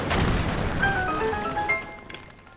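A bomb goes off in The Legend of Zelda: Breath of the Wild with a loud, close boom, followed by crackling, ringing debris tones that fade out over about two seconds.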